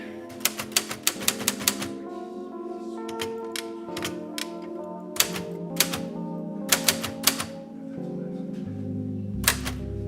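Rapid keystrokes on a mechanical typewriter, each a sharp metallic strike, coming in quick bursts with brief pauses and a ringing mechanical hum underneath.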